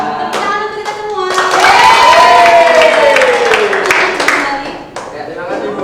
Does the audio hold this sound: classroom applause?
yes